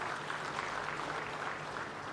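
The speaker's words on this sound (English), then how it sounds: "I'd like to give applause to the two gentlemen" An audience at a city summit in Kisumu applauds for two gentlemen, a steady wash of clapping heard faintly from a distance for a couple of seconds.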